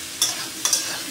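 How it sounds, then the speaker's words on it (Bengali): Potatoes and onion fry in a pan with a soft, steady sizzle, broken by two quick scrapes of a spatula stirring them, heard up close with no talking. "দেখো তো ভাজছি"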